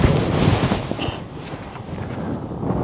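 Strong wind buffets the microphone on a remote UK golf course, a loud, continuous low rumble with gusty surges, alone and with no talking.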